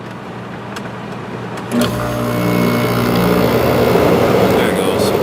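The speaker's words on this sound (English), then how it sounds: "let's see if the compressor will start now" A Kenmore (LG) low-profile window air conditioner with its compressor kicking on: a brief thump, then a steady loud mechanical hum and fan whoosh that swells and holds.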